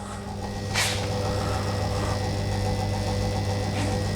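An electric fuel pump in a V8 turbo Supra hums steadily and fairly loud with a low, even drone, joined by a couple of brief hissing swells.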